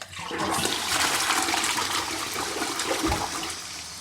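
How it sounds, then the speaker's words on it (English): A toilet flushing at close range, a loud continuous rush of water that swells fast and holds steady throughout, with a brief low gurgle near the end, in a damp, mouldy bathroom. "where the flush comes out."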